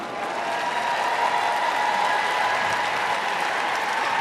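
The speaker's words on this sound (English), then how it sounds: "Big roar from the crowd." A crowd at a 2024 sporting group dog show judging cheers and applauds in a loud, sustained roar of clapping that holds steady throughout.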